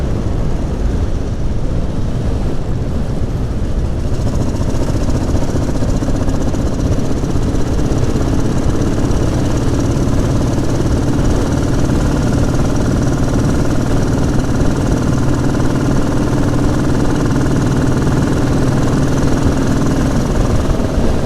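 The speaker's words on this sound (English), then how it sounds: "This old bike's got a lot of grunt in it." An old Royal Enfield 535 Fury motorcycle climbing a hill on a country road, its engine a loud, steady low thumping drone with rumbling throb sustained throughout, close and without talk.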